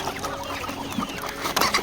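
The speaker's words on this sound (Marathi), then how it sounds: "हे बघा आपले सर्व कोंबड्या पाणी पित आहेत" Chickens cluck softly in a poultry house as they drink deworming water, scattered short calls over a constant low background hum.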